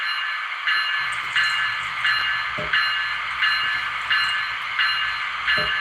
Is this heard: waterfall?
no